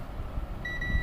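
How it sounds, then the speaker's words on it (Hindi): A multimeter set to continuity buzzer mode, used while repairing a Carrier inverter air conditioner's circuit board, gives a steady high-pitched tone that begins partway through and holds against faint background hum. "बज़र मोड पे मल्टीमीटर है हमारा"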